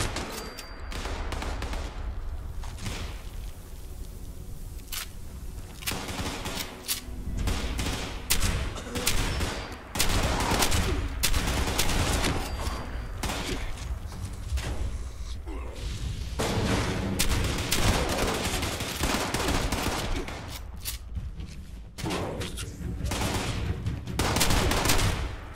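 Gunfire from the Fallout 76 video game rattles almost continuously in loud, dense bursts and volleys, with brief lulls between them, under occasional talk.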